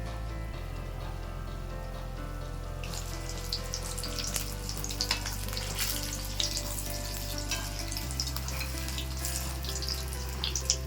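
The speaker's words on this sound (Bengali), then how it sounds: "লঙ্কার চপ ভাজা হয়ে গেছে," Chili chops, battered green chilies, frying in a pan of hot oil, giving a steady dense sizzle and crackle that swells partway through and carries on close up without any talk.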